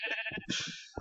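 Sheep in the video game Minecraft bleat twice in close succession, a short wavering call followed by a longer one, with a brief third bleat starting at the end, clear and alone without talk.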